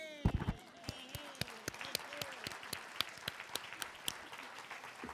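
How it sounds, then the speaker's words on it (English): An audience applauds at a League of Women Voters 100th anniversary celebration, a steady patter of many hands clapping with sharp individual claps standing out, moderately near and sustained for several seconds. "I think you need a grand round of applause."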